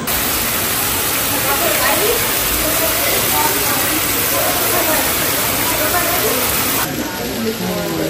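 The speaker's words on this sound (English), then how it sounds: "So we have these steaks that we're gonna throw on the fire right now" Steaks sizzling on a skillet at a family cook-off, a loud, continuous close hiss of searing fat that holds steady throughout, with voices talking over it.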